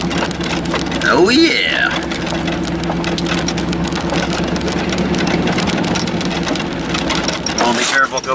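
A vehicle engine drives down a road with a steady, loud rumble and road noise running throughout, while someone speaks briefly over it.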